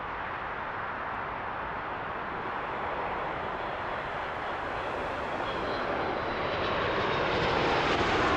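A Boeing 737 MAX 8 airliner takes off at Toronto Pearson airport with a broad, continuous jet roar that builds slightly louder over the eight seconds. No voices are heard.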